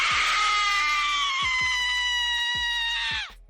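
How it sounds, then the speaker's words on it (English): One long, sustained, high-pitched scream holds steadily for about three seconds before cutting off abruptly, loud and close, with several sharp low thumps underneath. "Why are you screaming?"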